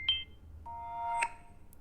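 Notification tones preview on a Samsung Galaxy S24 FE phone: a short chirp, then a sustained two-note electronic chime and a brief bright ping, faint and close with no speech.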